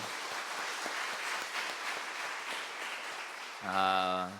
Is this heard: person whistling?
no